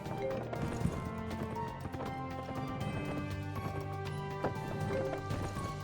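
Horse hooves clip-clop in the video game Petz Horsez 2 during western trick riding, a quick run of hollow clopping beats repeating steadily over a faint game soundscape.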